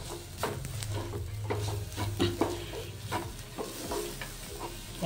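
Jaggery is stirred into grated coconut in a pan for sweet modak filling, producing quiet repeated scraping and mixing strokes with a light sizzle underneath.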